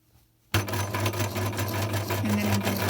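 A sewing machine starts abruptly and runs steadily while sewing a back stitch on bias binding, a loud close mechanical whir with a constant motor hum throughout and no talking.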